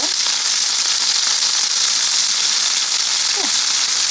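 Five chicken fillets frying in a pan for fettuccine Alfredo, a loud continuous sizzle close up with no pauses.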